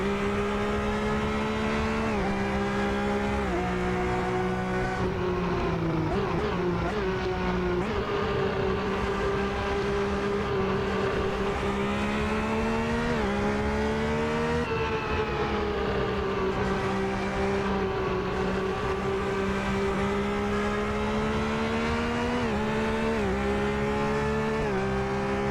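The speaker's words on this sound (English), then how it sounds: "So clutch in, first gear, raise the revs, and off we go onto the racetrack" A Ferrari 641 Formula 1 car in Assetto Corsa revs loudly and pulls away onto the track, its high-pitched engine note rising and falling through the gears in a sustained, close roar.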